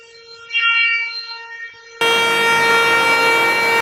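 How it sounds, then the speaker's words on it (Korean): A car horn blares loud and sustained close by on a busy street for a couple of seconds, preceded by a fainter wavering horn tone amid street noise. "지금 경적 소리가 얼마나 들리시나요"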